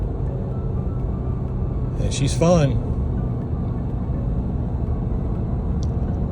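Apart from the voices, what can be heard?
Porsche Panamera GTS V8 engine revving while driving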